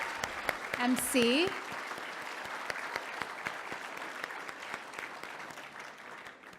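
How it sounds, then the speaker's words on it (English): Loud audience applause fills a banquet hall, a dense continuous patter of many hands with a brief whistle near the start, gradually thinning toward the end. "I want to start by asking for a very loud applause for Zahra Bilo"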